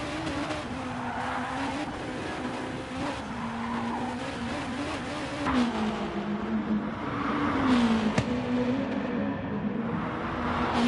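A Lamborghini race car in GT Sport at the Nürburgring, its engine droning and shifting pitch continuously with tire squeal and skidding, loud and close throughout.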